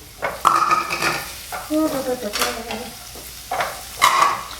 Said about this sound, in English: I'm going to add the rest of the onions in here. It's heating up nicely already.